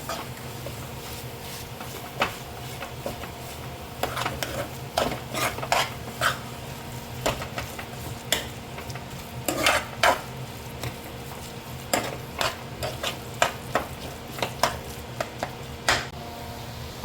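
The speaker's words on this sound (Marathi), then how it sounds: "पनीर ॲड केल्यावर आपण त्याला छान परतून घेऊया." Paneer bhurji sautés in a pan, with a low sizzle beneath irregular clacks and scrapes of a spatula against metal, close and moderately loud, no talking.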